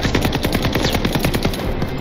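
Rapid enemy machine-gun fire in the Call of Duty Vanguard campaign, a loud, dense stream of overlapping automatic bursts that runs without a break, close and with no talking.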